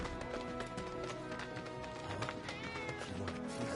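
A cat meowing amid busy game sound in Final Fantasy 7 Remake, its thin rising cries partly buried under a dense, steady mix of music and ambience with brief clopping hits, no voices over it.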